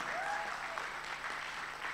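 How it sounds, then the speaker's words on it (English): A church congregation applauds to welcome Josh Pollock, a soft, steady patter of many hands heard at a distance across the room, with a faint whistle-like tone briefly rising early on. "Come on, give Josh Pollock a huge round of applause."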